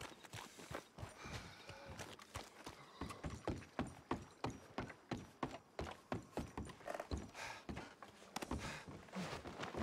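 Horse hooves clip-clop in a steady walking rhythm in the Red Dead Redemption 2 video game, close and fairly faint, with an occasional whinny and no talking over them.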